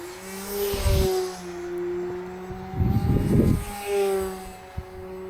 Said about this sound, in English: I'm really pushing this plane and doing it really tight.